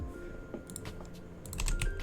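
Keys tapped on a link typewriter in the Minecraft Create Aeronautics game, a few quiet, uneven clicks in short bursts, faint with no voices.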